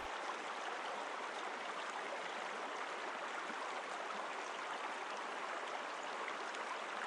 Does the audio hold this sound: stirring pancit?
no